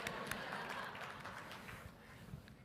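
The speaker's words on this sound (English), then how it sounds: "A big round of applause for Alderman Meyer, please, yes." An audience at a city planning congress keynote applauds for Alderman Meyer, a dense wash of many hands clapping that starts strong and gradually thins and fades over a few seconds.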